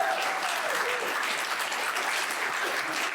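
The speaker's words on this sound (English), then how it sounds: "let's give one more round of applause to our presenters." Sustained audience applause for presenters at a recovery-community convention panel, a dense, even wash of many hands clapping at steady loudness throughout, with no clear talk over it.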